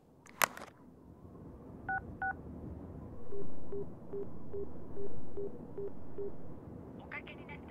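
Touch-tone telephone dialing in the video game Yakuza: Dead Souls: a sharp click, two short key tones, then a steady run of about eight evenly spaced dialing beeps, followed by a brief burst of higher tones at the end.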